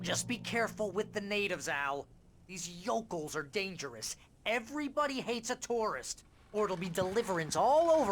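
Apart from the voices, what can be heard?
No distinct noise like a dog, phone or traffic.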